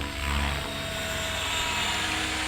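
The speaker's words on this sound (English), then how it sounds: "the helicopter can do it." A radio-controlled helicopter flying rolling circles whines steadily with a constant rotor and motor drone, loud and continuous throughout with no talking.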